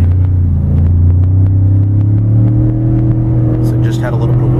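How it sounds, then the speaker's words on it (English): A 2015 Ford F-150 Platinum FX4 pickup pulling hard under load, its engine giving a loud, steady low rumble that rises gradually in pitch, heard from inside the cab, with a voice speaking briefly near the end. "I'm going to let these vehicles in front of me get a little ways ahead before I really get on power."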